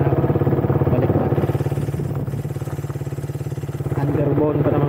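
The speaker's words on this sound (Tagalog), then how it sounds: "Underbone pa naman gamit yung motor." An underbone motorcycle idles close by with a steady, rapid low throb that runs through the whole stretch at a constant loudness, with a voice talking over it on a rough rural road near Barangay Mabato.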